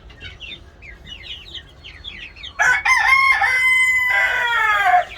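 Chickens cluck and chirp in quick bursts in a farm coop of five hens and four roosters, then a rooster crows loudly and close, a long drawn-out call that fills the rest of the clip.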